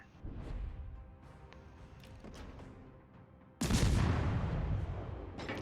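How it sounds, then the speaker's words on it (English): Warship secondary guns firing in a naval combat video game: a run of sharp gunfire reports and booms builds to a dense, loud barrage of overlapping blasts in the final seconds, with no talking. "Although the secondaries have taken off right away."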